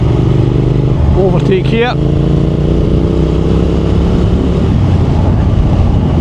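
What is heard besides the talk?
Triumph Thruxton R 1200 motorcycle accelerating while overtaking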